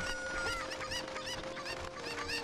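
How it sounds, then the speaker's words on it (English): Cucco chickens in the Ocarina of Time video game cluck repeatedly, a busy flock of short squawks over a steady game-music tone, faint overall. "And then we just throw this chicken, pick up this chicken,"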